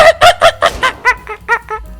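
Squawking, honking fowl calls from a chicken in the Roblox Squid Game video game, about eight rapid harmonic bursts in two seconds, loud and close with no talk over them.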